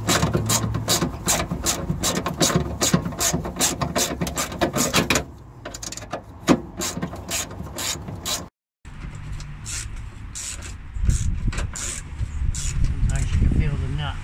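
A ratchet wrench clicks rapidly and steadily while turning a nut during a radiator repair on a camper van, loud and close, with a brief pause midway and someone talking over parts of it.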